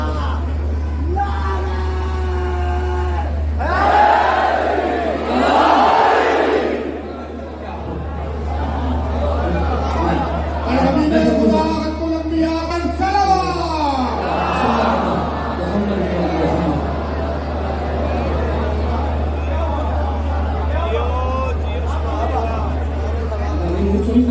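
During a religious gathering, a crowd roars back a slogan in loud shouted bursts, alongside raised voices and babble.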